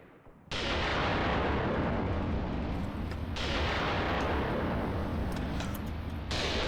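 Artillery fire in the Graviteam Tactics war game: a sudden loud blast that rolls into a sustained, dense rumble of shelling, with a second heavy impact a few seconds later, no voices.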